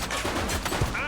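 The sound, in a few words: gunshots in the video game The Precinct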